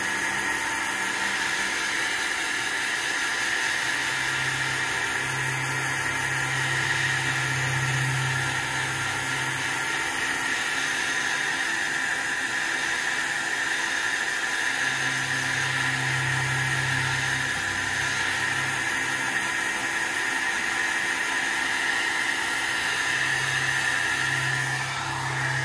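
A hair dryer blows steadily and loudly over a gouache painting of a misty mountain forest, a constant broadband whoosh with a faint low hum rising and falling, no talking over it.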